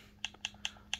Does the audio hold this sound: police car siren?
no